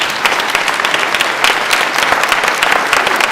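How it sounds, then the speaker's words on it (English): Audience applause at a school student recognition ceremony: steady, dense clapping from a crowd, sustained and fairly loud throughout, with no speech over it. "So let's give them one more round of applause."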